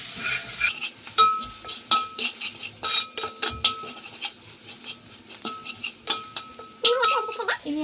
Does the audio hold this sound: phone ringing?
no